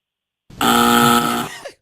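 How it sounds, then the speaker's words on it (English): A single loud game show buzzer blares for about a second, a harsh steady electronic tone that stops abruptly, with a short trailing sound after it. "Yeah, I got her buzzer."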